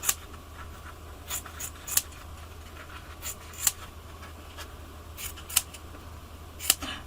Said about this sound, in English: these cuts are going to trim further to turn them into leaflets, or like small side leaves